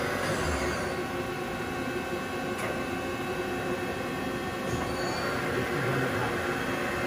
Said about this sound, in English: here we have a video of a MAZAK VTC-200 50 taper machine